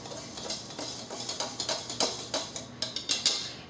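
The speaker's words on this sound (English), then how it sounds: "And now we're just going to whisk it together." Cupcake batter ingredients whisked together in a bowl, a quick series of close, rhythmic clinking strokes that grow sharper and faster toward the end.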